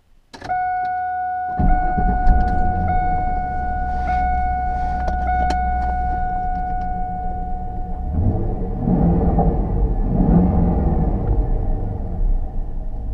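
A 2001 Pontiac Trans Am starts with a clunk, then a deep, rumbling V8 settles into a steady drone, with a faint whir like a power window partway through.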